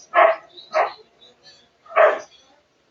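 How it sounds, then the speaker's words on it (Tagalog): Three sharp dog barks, close and loud, in an irregular rhythm with short pauses between them. "Medyo maingay yung aso."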